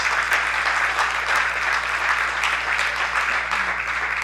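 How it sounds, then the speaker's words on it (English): An audience at a state tournament baseball game claps steadily and loudly throughout, a dense even applause with no voices standing out. "Military service, we applaud you."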